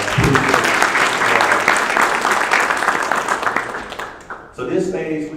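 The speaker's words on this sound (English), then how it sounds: "Now let's give them a hand clap, you guys" Audience applause at a Pitt County graduation ceremony, a dense crowd clapping loudly for about four seconds before it thins out, with voices rising over the tail end.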